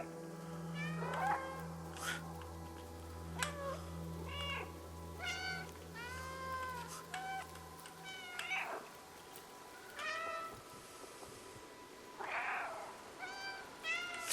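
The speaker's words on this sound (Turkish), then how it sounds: "Oğlum ben durmadan miyavlarım lan" A cat in the video game Stray meows repeatedly, a dozen or so clear, close meows in an uneven rhythm, over a low steady hum and faint game ambience, with no talk.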